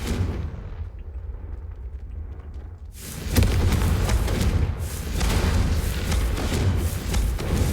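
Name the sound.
Confringo explosive spell blasts, Hogwarts Legacy video game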